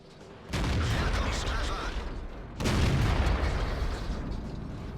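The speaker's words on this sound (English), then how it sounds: "We're going to see what happens when an ammo rack causes a turret to land on another" Tank ammo rack detonation in World of Tanks, two heavy booming blasts about two seconds apart, each followed by a rumbling, crackling tail.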